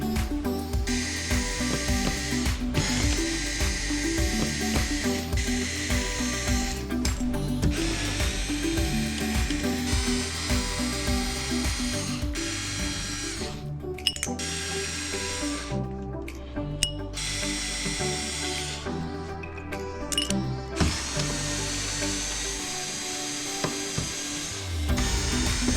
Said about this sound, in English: We'll need to remove the T15 screws and single 7mm screw that are used to attach it